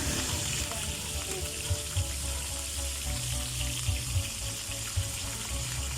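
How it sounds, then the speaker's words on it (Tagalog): Saluyot and bamboo shoots (labong) fry in oil with a constant watery sizzle and occasional soft pops, moderately loud and without voices. "So, ayan na po natin pinipirito."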